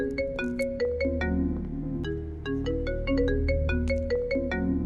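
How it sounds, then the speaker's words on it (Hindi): A phone ringtone plays a steady, melodic electronic tune with bright repeating tones, loud and continuous with no talking over it. "अरे भाई फोन आ रहा है तेरी लव का, उठा लूं?"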